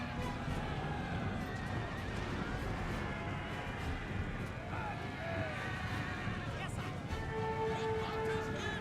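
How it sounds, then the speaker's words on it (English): A cavalry charge in Napoleon: Total War, horses neighing and whinnying over a dense rumble of galloping hooves and battle noise, with a voice talking over it. "we'll send our cavalry in for a cavalry charge"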